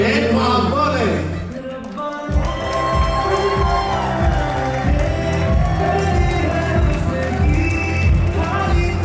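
A loud crowd at a wedding valima reception cheers and whoops over booming music with a heavy beat, the noise swelling and staying energetic throughout.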